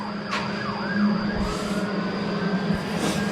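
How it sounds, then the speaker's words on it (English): A siren wails with rising and falling sweeps, moderately distant, over a steady low hum of background noise. "You don't hear sirens out this way much."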